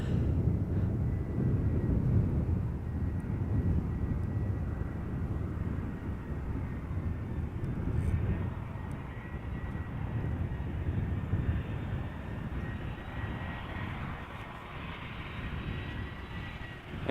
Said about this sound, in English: there is a 747. Hey, and it's looking like it is turning onto the glide slope of center